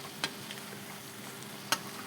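Egg and potato pakoras frying in hot oil over high heat, a steady soft sizzle with two brief louder crackles standing out near the start and toward the end.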